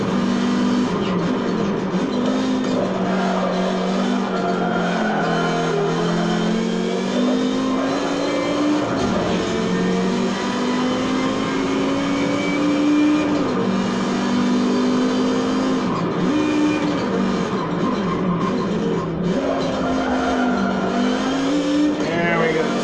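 Race cars in the Forza Motorsport 7 video game roar continuously, engines rising and falling through gear changes with occasional tire squeal, loud and steady throughout with someone talking over them.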